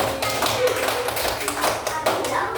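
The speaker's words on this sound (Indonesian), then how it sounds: "Tepuk tangan untuk kelompok 3" A classroom of fourth-grade students clapping together for a student group, a dense, steady patter of many hands close by, with some voices mixed in.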